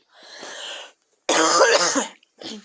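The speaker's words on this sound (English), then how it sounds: "I still have the cough" Someone recovering from being sick coughs: a short hoarse cough, a pause, then a louder, harsher cough burst, followed by a brief final cough, close to the listener.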